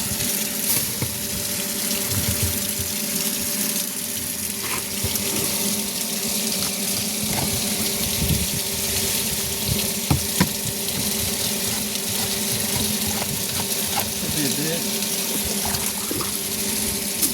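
Water runs into a urea carrier for drip irrigation in a sugarcane field. It makes a steady, continuous rushing and pouring with a faint pump-like hum, close and alone, for the whole stretch.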